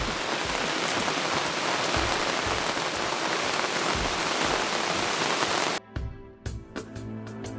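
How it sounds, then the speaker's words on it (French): Steady, dense rain pattering on leaves and branches, then thinning abruptly into scattered heavy drips falling close by. "On est à l'abri de la pluie sous les arbres."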